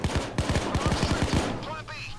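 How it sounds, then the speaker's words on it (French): Rapid bursts of automatic gunfire crackle in the PayDay 2 heist video game, close and loud, in quick repeated volleys over about a second and a half, with a faint voice underneath. "la police a détecté des tirs"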